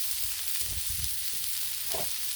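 Smash burger meatballs sizzling on a Blackstone griddle on a cold evening, a steady close crackling hiss with a few soft low bumps underneath and no talk.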